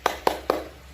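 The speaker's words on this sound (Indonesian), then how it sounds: "kita tepuk semangat dulu yuk. Ikuti ibu ya. Tepuk semangat." A classroom "tepuk semangat" hand-clapping routine gives three sharp, close claps in quick, even succession, each with a short decay, and then quiet.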